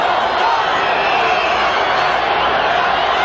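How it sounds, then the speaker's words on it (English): Steady, loud roar of a baseball crowd at Game 4 of the 1979 World Series, Orioles at Pirates, chanting "Let's go Bucks" as one continuous wash of massed voices. "Crowd chanting, "Let's go Bucks.""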